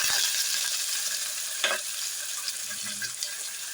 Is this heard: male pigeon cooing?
no